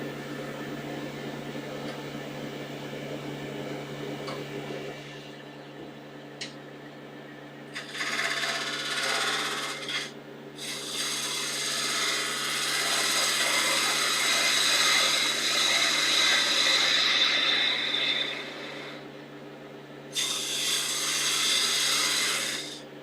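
A spindle gouge cuts a bud vase on a wood lathe, with a steady motor hum under long, loud bursts of rough cutting noise. The bursts are broken by brief pauses, and no one speaks.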